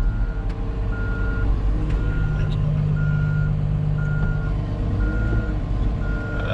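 A Cat 938 wheel loader in reverse sounds a loud, regular backup beeper, evenly spaced tones repeating over the idling diesel engine close by.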